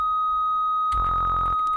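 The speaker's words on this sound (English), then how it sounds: "if you turn the resonance up too much, basically what happens is it generates a sine wave at the cutoff" A steady pure sine tone from a resonant FL Studio filter pushed to self-oscillation at its cutoff, held alone before a dense buzzy burst briefly swells underneath and fades.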